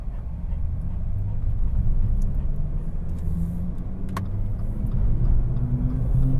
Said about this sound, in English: So I can go zipping by these other cars here